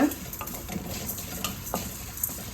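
Cumin and black kavuni rice dry roasting in a pan, with a steady dry hiss and light, regular scraping and rattling strokes of a utensil, fairly close.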